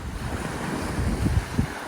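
Steady wind blowing toward the shore rushing over a microphone by the Baltic Sea, with low rumbling surf and a couple of stronger gusts near the end.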